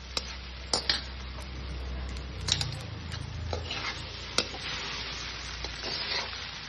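Potatoes tumble into sabudana usal in a home kitchen pan and get stirred, a steady soft sizzle carrying occasional sharp spoon scrapes and clinks against the metal, close and moderately loud with no voices.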